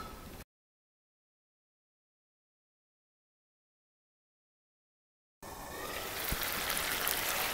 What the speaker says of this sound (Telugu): ఇప్పుడు దీంట్లో నేను తగినన్ని నీళ్ళు వేసి సో చికెన్ పూర్తిగా మెత్తగా అయ్యేదాకా అంటే ఉడికేదాకా మనం దీని మూత పెట్టి ఉడికించుకుందాం।